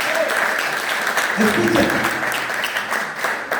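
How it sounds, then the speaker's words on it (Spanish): Church congregation clapping in a burst of applause during a Sunday morning service, a dense steady patter with a voice speaking over it. "Dale un aplauso al Señor en esta mañana."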